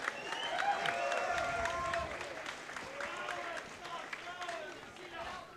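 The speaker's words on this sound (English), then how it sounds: "Let's have a round of applause for these warriors." Crowd applause at a Muay Thai fight league event, steady clapping and cheering filling the arena throughout, with a voice talking over it.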